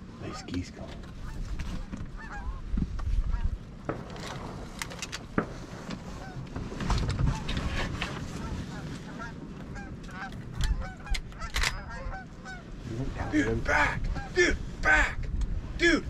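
Geese honking repeatedly in a ragged chorus over a river during a Wyoming duck hunt, some calls close and loud, others farther off, mixed with wind and hunters talking.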